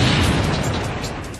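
A precision-guided air-dropped bomb detonates in a loud, continuous blast: a deep rolling rumble with broad crackling debris that holds for over a second and fades only slightly.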